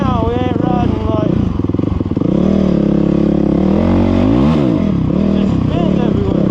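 A dirt-bike motorcycle on a muddy trail revs hard and close, the engine pitch climbing and dropping in uneven surges as the rear wheel spins, loud and continuous, with a voice over it at times.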